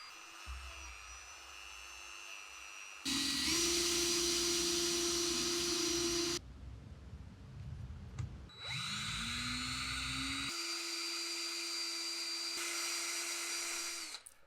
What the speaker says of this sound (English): The wire brush attachment on the Dremel is good for removing light rust